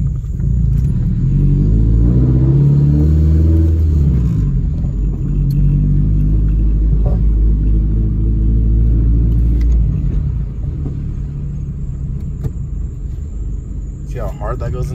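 A 2002–2006 Toyota Camry fitted with a new short shifter and shifter bushings, driven as a road test: a low engine rumble that rises and falls through gear changes, heard from inside the cabin, with faint clicks near the end.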